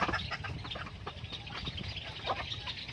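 Native hen clucking softly near a brood of chicks as she shows them how to feed, with scattered peeps and scratching close by over a steady farmyard background.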